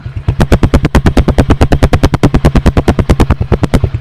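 Honda Win 100 motorcycle engine fitted with a new exhaust, idling loud and close in a rapid, even train of sharp popping exhaust pulses, steady throughout.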